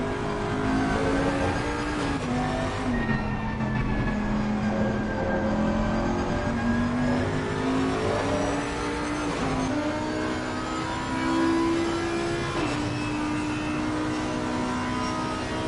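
Race cars, including an Aston Martin and a BMW, scream around the Nürburgring in a PS5 racing game, with loud continuous engine whine rising and dropping through gear shifts and no talking.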